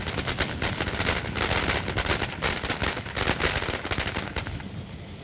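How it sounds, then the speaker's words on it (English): Consumer fireworks go off nearby in a dense, continuous string of sharp cracks and pops, loud and rapid like gunfire, before fading slightly at the end. "once the wick is ignited, we want to back away in a safe manner. And we will let the fireworks do what the fireworks going to do"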